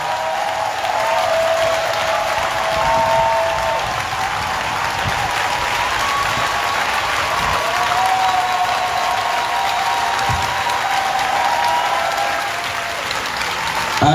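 A church congregation claps in acclamation of God, with sustained, dense applause filling the room at a steady level before it tapers off slightly near the end.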